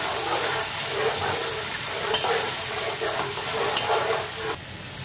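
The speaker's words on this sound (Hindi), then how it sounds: "अदरक लहसुन के पेस्ट को थोड़ा सा भूनेंगे" Ginger garlic paste frying in a pot for Moradabadi biryani, a loud, dense, continuous sizzle with steady hissing and intermittent stirring scrapes throughout.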